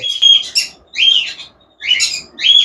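Bright, shrill calls of a caique parrot in four bursts with short pauses between them, loud and close, with no voices.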